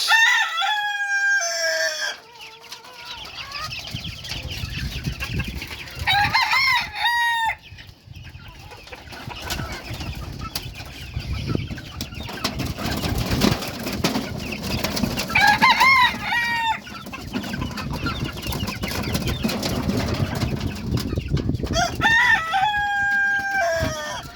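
Repeated rooster crows ring out over ongoing hen clucking and rustling, with several loud crowing bursts spread across a busy, close chicken-rearing scene on an open rooftop.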